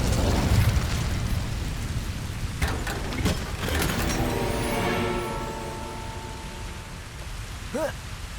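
The Incendio fire spell is cast in Hogwarts Legacy: a roaring burst of flame with sharp crackling pops swells, then fades into a softer whoosh and a brief tonal flourish near the end.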